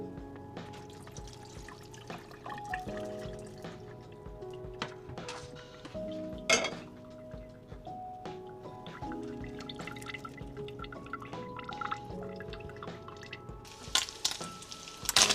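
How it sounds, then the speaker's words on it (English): Items are rinsed under a running kitchen tap, with trickling water, irregular drips and splashes over a faint tonal backdrop, and no talking. "I'm gonna wash these off and then I'm gonna be right back."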